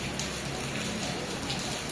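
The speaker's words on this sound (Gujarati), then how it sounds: "એ વરસાદ ચાલુ છે, હજી બંધ જ નથી થયો" Steady rain falls at night in Surat, a constant dense hiss that fills the clip without a break and with no voices.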